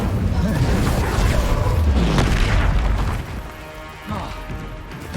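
Incendio fire spell cast in Hogwarts Legacy, a loud booming, crashing burst of fiery impact sound with rumbling low end, fading after a few seconds before another hit; a voice is briefly present.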